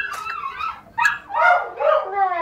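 A dog gives a short run of yips and whimpering barks at close range, several high, wavering calls in quick succession.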